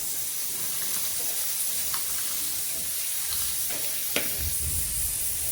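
Soaked rice tipped into hot ghee with turmeric on a tawa for street-style Mumbai pulao, giving a steady, close sizzling hiss with a few faint clicks and a brief low rumble near the end.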